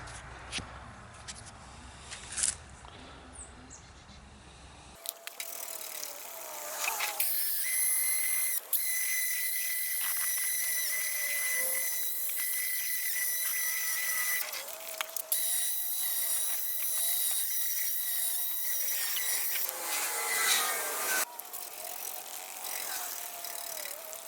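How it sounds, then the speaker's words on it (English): A high, whining power-tool tone rises and falls as a 1500-grit sanding disc sands a car headlight, steady and close for about twenty seconds with brief pauses. "Now we're going to switch to a 1500 grit sanding disc."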